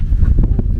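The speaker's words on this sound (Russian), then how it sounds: "Ветер, не знаю, как ветрозащита отрабатывает." Wind buffeting a microphone on a Maldives beach, a steady low rumbling roar with gusty swells throughout, loud and close with no voices.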